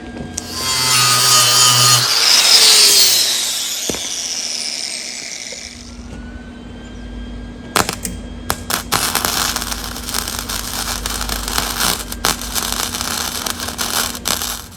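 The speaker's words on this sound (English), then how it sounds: "Grind that off a little smoother." A power grinder smooths welded metal on a John Deere LA115 lawn tractor deck. A loud, rising grinding whine dominates the first six seconds, then dies away, followed by rapid scraping and rattling bursts.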